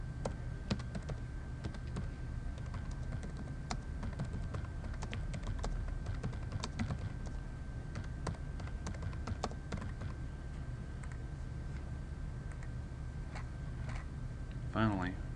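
Steady clicking of fingers typing on a computer keyboard, close and fairly quiet, with a voice talking over it throughout.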